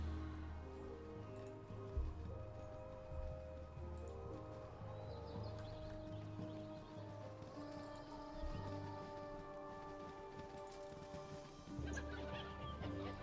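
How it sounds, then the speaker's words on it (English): Chicken clucking in the Baldur's Gate fantasy role-playing game, short fowl calls over steady game ambience and background music for most of the stretch. "Oh, it's a chicken."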